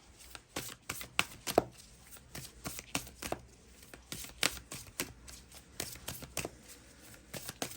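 A tarot card deck is shuffled by hand in a quiet room, producing quick, crisp riffles and taps in an irregular rhythm, close and fairly soft, with no talking.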